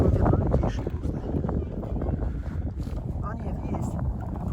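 Strong wind gusts buffet an outdoor winter ice fishing spot in a snowstorm, a loud, rough rumble of wind hitting the microphone that rises and falls continuously with a low, blustery roar.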